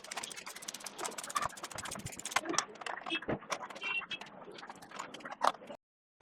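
Bolts are refitted on a Royal Enfield Thunderbird seat with a quick run of close, sharp metallic clicks and ticks, like a ratchet or tool working, fairly quiet and ending abruptly.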